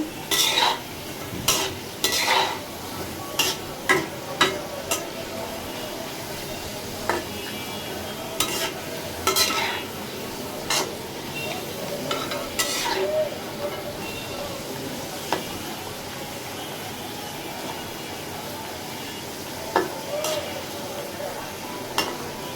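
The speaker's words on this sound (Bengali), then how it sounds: "আলু প্রায় ভাজা হয়ে গেছে।" Potatoes sizzling in a hot pan under a constant frying hiss, with a spoon scraping and clinking against the metal every few seconds.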